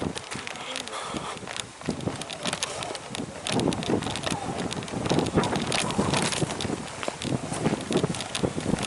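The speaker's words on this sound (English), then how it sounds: "The wind now in the camera is probably howling" Strong wind buffets the microphone in continuous loud, rumbling gusts throughout, with no clear voices over it, on the Killarney Lakes in Ireland.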